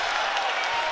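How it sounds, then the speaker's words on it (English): Basketball arena crowd roaring and applauding after a reverse slam dunk at an Arkansas game, a dense, sustained wash of cheering held loud and steady throughout. "This crowd is loud as they have been all night"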